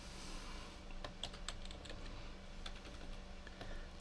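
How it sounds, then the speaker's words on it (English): Quiet typing on a computer keyboard: soft, irregular clicks and taps close by, faint against a steady background hiss, with no talking. "Typing that for you guys, Merso."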